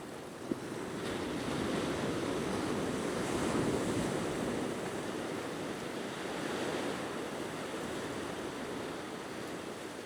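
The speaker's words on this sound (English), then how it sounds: "a nice bit of wave action around some foreground rock, beautifully clean beach" Waves wash steadily around foreground rocks on a clean beach, a constant broad rushing surf with gentle swells in intensity, mixed with some wind noise and no voices.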